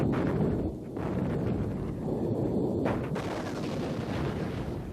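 Israeli artillery firing at Syrians in the Six Day War, heard as a continuous heavy rumble of distant shelling with rough, booming bursts and wind-like noise, no clear gaps.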